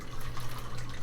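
A calming bottle filled with glitter, oil, water and food coloring is shaken, giving a continuous wet sloshing, swishing noise, close up and without speech.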